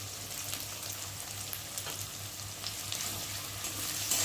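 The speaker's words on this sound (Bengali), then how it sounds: "পেঁয়াজটা ভালো করে ভেজে নিতে হবে, খুব একটা ভালো করে ভাজবো না, হালকা করে ভাজবো।" Onions frying lightly in a pan, with slit green chillies going in, for a lota fish (Bombay duck) dish, giving a quiet continuous sizzle with a low steady hum beneath.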